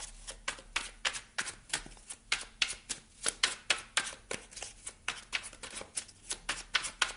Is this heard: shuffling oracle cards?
yes